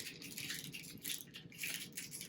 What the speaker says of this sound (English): I'm just dry brushing it.